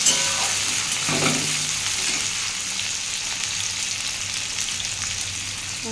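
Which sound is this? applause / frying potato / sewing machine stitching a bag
frying potato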